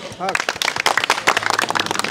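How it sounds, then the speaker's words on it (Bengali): A crowd at the Rahman Agro cattle farm in Ashuganj breaks into applause, a busy scatter of hand claps right after a brief spoken voice, with talk continuing faintly beneath the clapping. "রহমান এগ্রোর জন্য একটা হাততালি হোক"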